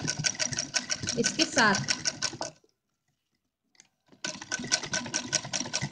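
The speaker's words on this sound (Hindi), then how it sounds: "इस तरह से इसे पूरे पर सिल देंगे।" Sewing machine stitching a doll-sized dress (lehnga chunri) for a goddess idol, a rapid steady mechanical whir that runs, stops for about a second and a half, then resumes, with a voice speaking briefly over it.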